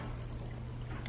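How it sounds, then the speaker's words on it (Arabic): Water runs from a vessel into a container, filled up to a marked line while preparing a cranberry drink: a soft, continuous, close pour heard alone at low volume with a faint steady hum beneath. "نحط ميه لغايه علامه"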